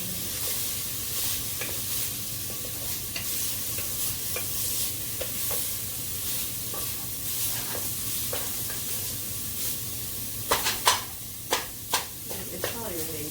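Breakfast sausage frying in a pan, a steady soft sizzle under quiet talk, with a spatula stirring and scraping and sharper clinks toward the end.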